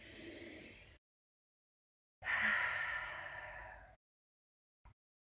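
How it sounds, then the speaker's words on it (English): A person takes a deep breath before an opening prayer in a full moon circle, with a long audible inhale and then a longer, breathy exhale, close and clear, followed by a tiny click. "I'm going to take a deep breath to get started."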